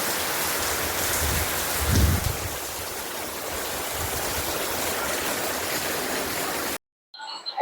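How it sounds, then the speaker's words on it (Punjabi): Heavy afternoon rain pours in a steady, loud wash of hissing drops, unbroken until it cuts off abruptly near the end. "ਅੱਜ ਦੁਪਹਿਰ ਤੋਂ ਤੇਜ਼ ਬਾਰਿਸ਼ ਹੋ ਰਹੀ ਹੈ"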